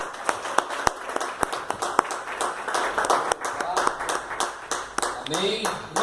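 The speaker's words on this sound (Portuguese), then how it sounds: "As palmas glorificam o Senhor." A church congregation claps in praise during a service, scattered and uneven hand claps with a few sharp strong ones, heard under ongoing talk and background voices.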